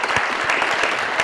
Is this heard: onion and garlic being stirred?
no